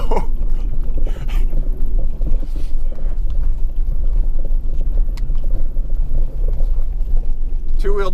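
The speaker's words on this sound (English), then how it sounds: "Two-wheel drive little donuts here, the only time it has enough power to actually do anything." A Jeep WJ Grand Cherokee in two-wheel drive spins small off-road donuts, its engine a steady loud rumble with tire and dirt noise throughout, close by, with people talking over it.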